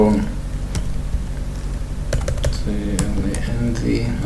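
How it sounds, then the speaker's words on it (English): Scattered keystrokes on a computer keyboard while a search term is entered into fleet-management software, the clicks light and irregular over a steady low room hum. "as soon as we start typing Opel"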